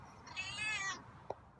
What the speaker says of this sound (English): it's raspy meow